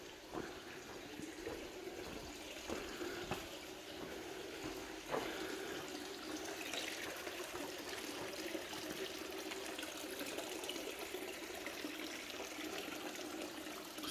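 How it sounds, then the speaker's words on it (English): Water runs steadily at a spring or water source at the Church of the Multiplication, a continuous gentle rushing and trickling, moderately quiet and uninterrupted. "Now I can show you the source of water."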